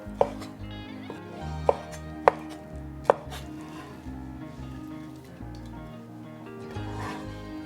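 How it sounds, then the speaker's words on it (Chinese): Peeled shrimp are chopped into small pieces on a cutting board with a knife for har gow filling. Four sharp, separate chops come first, then softer cutting continues under quiet background music, with no talk. "接下来把虾仁切小块。"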